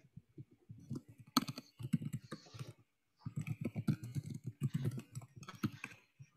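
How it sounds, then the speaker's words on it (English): Someone types on a computer keyboard in quick irregular bursts, breaks off for a short pause, then carries on typing, with no talking. "I just typed the question in for people."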